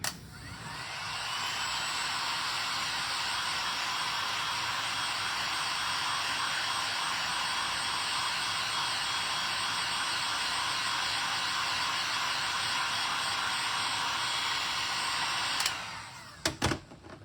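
A hair dryer blows a steady, loud, continuous roar for about fifteen seconds while drying paint on a glass and resin Santa ornament, then cuts off abruptly near the end with no talking.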